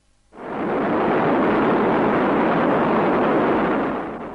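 A rocket launch roars up suddenly after a brief silence and holds as a loud, broad, sustained rumbling blast that fades slightly at the end.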